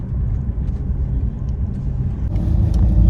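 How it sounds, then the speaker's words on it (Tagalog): Road traffic in a UK city centre in the late afternoon, with cars passing in a steady, loud, low rumble that swells toward the end. "Medyo ma-traffic pa."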